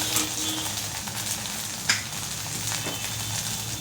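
Food sizzling in a pan makes a constant, close frying crackle, with one brief louder clink or stir partway through. No talking.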